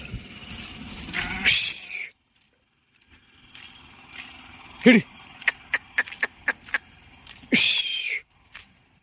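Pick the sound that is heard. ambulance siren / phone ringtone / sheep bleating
sheep bleating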